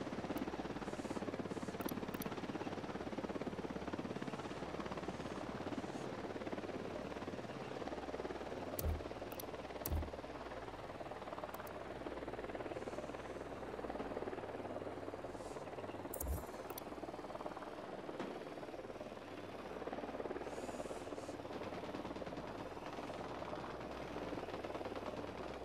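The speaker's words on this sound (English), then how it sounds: "Chopper inbound." A helicopter arriving in the video game Ghost Recon Wildlands makes a steady, distant engine and rotor drone that continues throughout, with occasional faint clicks and thuds and no talk.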